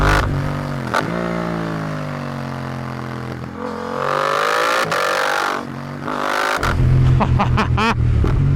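Loud and close, the Suzuki GSX-8R motorcycle's engine climbs and drops in pitch as it revs and shifts, ending in a strong burst of acceleration with a sharp, punchy exhaust note.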